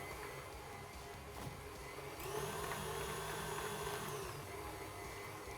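An electric mixer whips pasha cream with a quiet, continuous motor whir that steps up slightly in intensity partway through and holds steady, with no voices.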